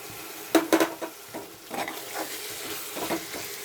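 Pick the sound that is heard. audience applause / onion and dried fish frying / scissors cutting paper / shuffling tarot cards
onion and dried fish frying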